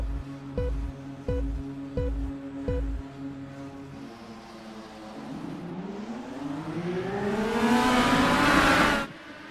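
IndyCar race cars launch from the start on the Sam Posey Straight at Lime Rock Park. Idling engines pulse rhythmically, then a loud rising roar builds as the field accelerates away together, peaking near the close before cutting off.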